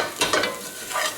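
Potatoes tossed with paprika and onion in hot oil give a bright, continuous sizzle with a few scraping stirs of a utensil, close and fairly loud.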